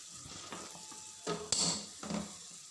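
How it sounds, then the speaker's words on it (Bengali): Peas, carrots and cabbage being stir-fried together in a pan, with bursts of sizzling and scraping stirs that come in short waves, close and fairly quiet, with no talking. "মটরশুঁটি, আর হচ্ছে গাজর, আর এটা কি বলে বাঁধাকপি, এগুলো দিয়া সবজি ভাজা।"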